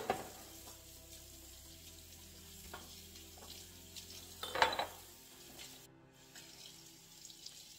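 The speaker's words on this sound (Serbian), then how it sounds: "Evo i sad sam uzela da perem sudove" Dishes are washed at a kitchen sink: a tap runs quietly in the background while a few sharp clinks and clatters of crockery break through. No one speaks.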